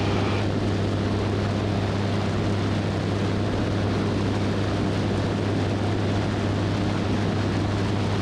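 A Super Petrel light aircraft drones steadily in flight, its engine and propeller holding a loud, unbroken hum from start to finish with no voices.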